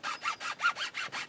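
Metal chainsaw file rasping string grooves into the tip of a wooden flat bow, seven steady back-and-forth strokes in quick rhythm, close and clear with no talking.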